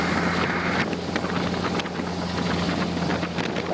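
Small aircraft piston engine held at high RPM during a pre-takeoff run-up, a steady loud droning roar with strong wind-like rush, continuous and close throughout with no talking.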